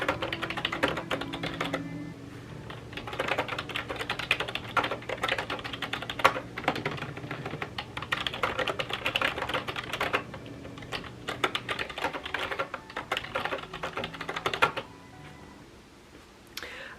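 Continuous typing on a computer keyboard while writing a paranormal romance novel, steady clicking keystrokes close and fairly quiet over a low room hum, stopping near the end.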